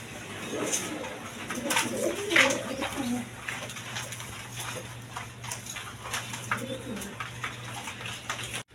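Spanish pouter pigeons at a breeding loft coo softly in a repeated low rhythm, several birds close by against a steady background hum.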